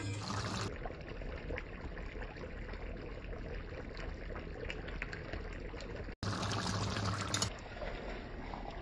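Water poured into a pot of potatoes being boiled for chitol fish muitha in a home kitchen, a steady near splashing stream running continuously, briefly broken near the end.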